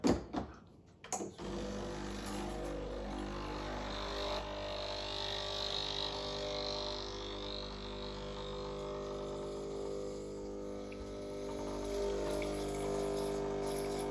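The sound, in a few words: water flushing through Breville Barista Express espresso machine group head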